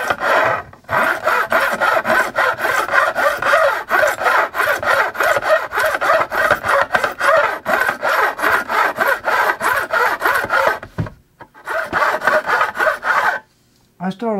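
A file rasps rhythmically across a bass guitar part being shaped, with dense, steady back-and-forth strokes close up, a brief pause near the end before more strokes resume.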